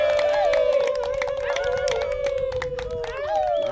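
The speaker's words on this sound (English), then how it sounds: "please clap loudly" An audience at a live event cheers and claps as a performer named Tom Wolf is introduced, with dense steady applause under a long sustained whoop and scattered shouts, loud and close throughout.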